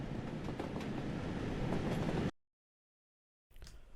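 Rhythmic rumble and clatter of a steam locomotive in a train simulator video game, cutting off abruptly to silence before the rolling noise briefly resumes.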